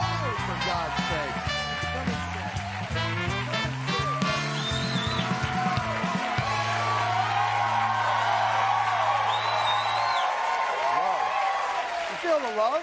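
A studio audience on a TV talk show applauding and cheering for Norm Macdonald, sustained clapping and whoops running beneath music and a host's voice.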